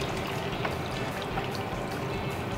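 Water pours steadily into a pot for a bouillon-style soup, a continuous close, rushing splash with no break and no talk.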